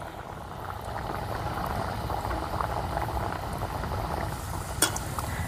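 Puris deep-frying in very hot oil: a steady, close bubbling hiss of the oil that runs on without a break, with one brief sharp crackle near the end.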